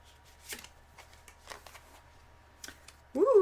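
Tarot cards are handled and shuffled up close, giving a few scattered soft riffles and papery flicks over a low background hum. A voice starts speaking at the end.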